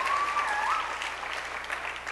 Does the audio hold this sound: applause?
yes